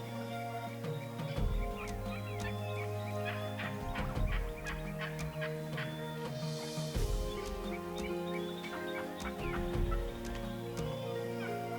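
A flock of wild turkeys in Kansas in spring, toms, hens and jakes, gobbles and clucks repeatedly, overlapping calls near and far, with other birds chattering in the background.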